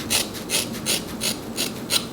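Scissors trimming the hair of an afro kinky curly wig, a regular series of about seven close, crisp snips with a rasping edge, repeating evenly and heard without talk.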